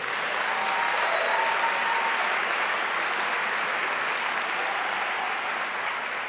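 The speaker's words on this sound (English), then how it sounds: "Another round of applause." A lecture audience claps continuously in dense, even applause, steady and full throughout with no voices above it.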